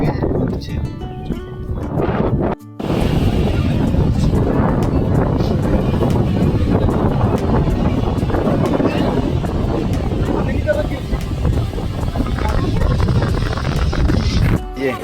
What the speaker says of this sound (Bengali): আজকে যেহেতু হাওয়াটা অনেক বেশি